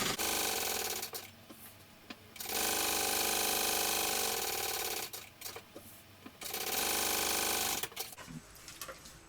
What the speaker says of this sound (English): I might just go ahead and baste around the sides as well